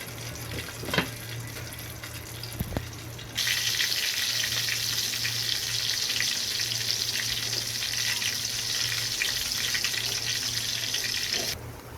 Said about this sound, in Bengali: এ পর্যায়ে ঢাকনা দিয়ে আরও 10-12 মিনিট একদম কম আঁচে রান্না করে নেব।